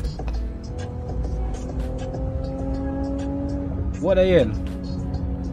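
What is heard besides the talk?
V6-engined street racing car revving and passing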